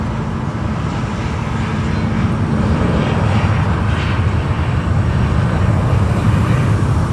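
A jet airliner takes off from Fort Lauderdale airport, its engines giving a loud, sustained broadband roar that holds steady for the whole stretch, close and powerful, with no talk over it.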